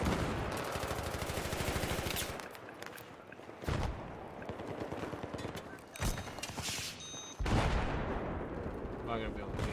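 Battlefield 3 on PS3, a Conquest match on the Haven map, with dense overlapping gunfire and explosive booms filling the mix. Bursts shift and restart every couple of seconds, and a player's voice comes through underneath.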